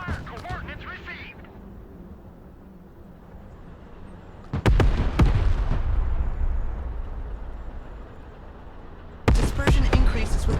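Artillery fire and explosions in the modern war strategy game Broken Arrow: a heavy boom near the middle rolls into a long rumbling decay, then another sharp blast near the end, with radio-style voice lines heard early.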